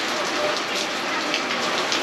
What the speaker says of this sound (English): we're stuck up in this Ottoman house in a torrential downpour.